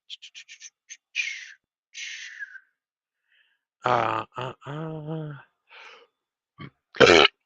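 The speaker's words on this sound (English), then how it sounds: "We're going to leave on that burp." A man on a live trucking show lets out a loud, drawn-out burp among several short grunting vocal bursts and breathy noises, each separated by silence.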